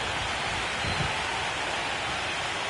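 Steady rain pours over a baseball stadium in MLB The Show 25 during an Orioles–Giants game, a dense, even hiss of falling water that stays constant and fairly loud throughout with no talk.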